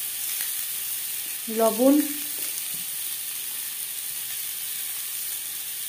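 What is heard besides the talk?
diced boiled potatoes frying with salt and turmeric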